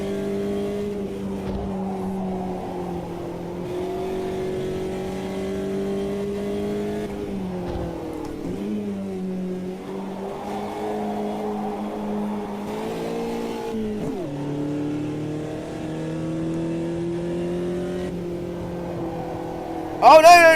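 Race car engines in the Automobilista 2 racing game on a slightly damp Norfolk track drone and shift pitch through gear changes, a steady close engine tone with brief revs and a sharp burst at the end.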